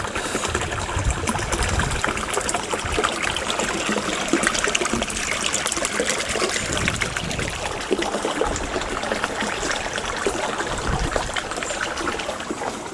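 Stream of water carrying silt and sand, flowing strongly in a continuous rushing, trickling wash that stays steady and close throughout, alone with no speech.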